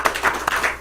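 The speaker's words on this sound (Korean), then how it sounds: "우리 박수!" A group claps together at a church class gathering, a brief burst of close, uneven handclaps lasting under a second.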